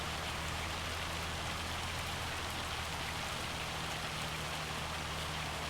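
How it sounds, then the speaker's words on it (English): Hail falling in the video game Farming Simulator 25 on Judith Plains, Montana, a dense steady hiss of pelting ice with a low hum underneath, constant and fairly quiet. "Oh boy, that's a lot of hail."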